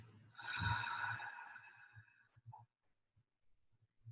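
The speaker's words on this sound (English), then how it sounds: "breathing out," A person exhales slowly during a yoga breathing exercise, one long audible breath out that fades away, followed by faint soft rustles in a quiet room.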